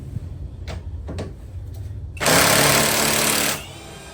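A Hercules battery-powered impact tool from Harbor Freight bursts into a loud, sustained buzzing rattle for about a second while removing a car's suspension fork, after a few quieter clicks and taps.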